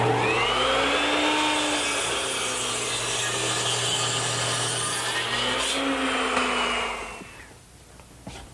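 A miter saw set to 45 degrees cuts through a wooden board for a dovecote roof ridge, a loud close motor whine with the blade grinding through the wood for several seconds, then spinning down to quiet.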